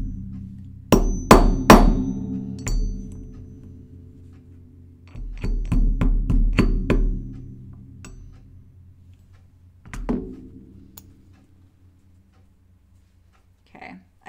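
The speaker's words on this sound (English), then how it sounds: "I've been like hammering on the side here when it feels like it's getting a little tilty." Hammer tapping rivets into a Kelly Anorak jacket while sewing, in bursts of sharp close knocks, one rapid cluster of strikes followed by a long series, then a lone hit and a faint final tap.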